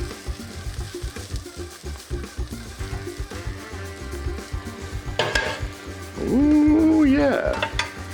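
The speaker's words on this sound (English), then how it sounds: "At this point, I'm gonna start to add some of my vegetables." Vegetables tossed into a hot pan hiss and sizzle steadily, with scraping stirs and clinks of utensils against the pan, and someone briefly speaks and hums over the frying.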